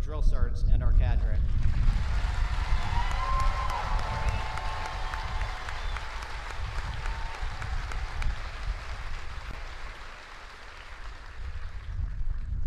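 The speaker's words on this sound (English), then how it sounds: "Please join me in a round of applause for our soldiers, our drill sergeants, and our cadre." Sustained applause from a large audience at a Fort Jackson Army basic training graduation ceremony, a broad steady roar of clapping with some cheering, lasting over ten seconds outdoors.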